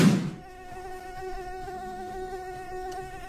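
A mosquito whines in a steady, thin, high buzz close to the ear, following a short soft thump at the start, with no voices.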